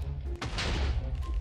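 Rapid burst of gunfire from a gun in a Minecraft video game, loud and close, a dense crackling volley over a low rumble with no talk.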